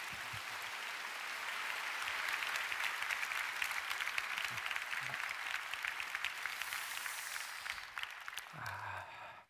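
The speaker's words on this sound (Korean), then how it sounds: "강사님 나오실 때에 힘찬 박수로 환영하며 맞이하시겠습니다." A congregation at a prayer meeting gives a vigorous round of applause to welcome a speaker coming to the stage, thick continuous clapping that swells slightly and then fades out near the end.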